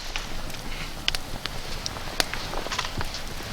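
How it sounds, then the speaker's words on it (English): Pine knots burning, with soft spluttering flames crackling and popping irregularly over a low steady hiss, a few sharper snaps standing out, fairly quiet and close. "The spluttering flames on the pine knots is a really comforting sight."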